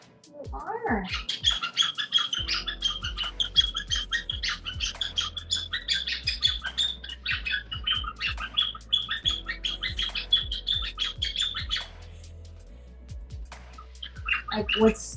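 Pet birds chirp and squawk repeatedly in quick bursts, fairly close, over a low rhythmic music backdrop, with a brief lull near the end before more chirps.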